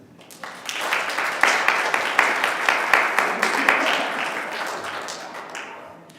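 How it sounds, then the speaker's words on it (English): An audience claps at a livestreamed faith event, a burst of applause that swells within the first second, holds with a few sharper claps, then tapers away. "Big round of applause for Andrew."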